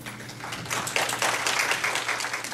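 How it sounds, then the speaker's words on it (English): Brief applause from a meeting audience welcomes an Alzheimer's Association speaker, a short patter of many hands clapping that builds quickly and holds steady at moderate volume. "So please give her a round welcome applause"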